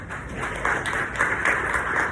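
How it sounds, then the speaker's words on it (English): An audience at a gathering applauds itself with a steady round of clapping from many hands, moderately loud and continuous throughout. "I want you to give yourselves a round of applause right now."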